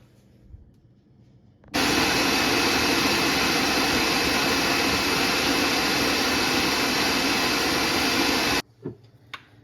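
A food processor chops ingredients for holiday appetizers, its motor starting abruptly into a loud, steady whirring roar for about seven seconds before cutting off.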